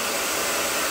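A hair dryer on its cold-air setting blows with a constant loud, rushing whoosh, close up and uninterrupted, with no other sounds.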